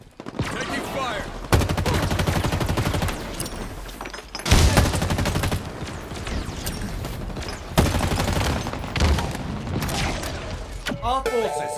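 Rapid automatic gunfire and bursts of shooting from the video game Halo Infinite, loud and near, in repeated volleys with brief pauses, mixed with game effects and voices.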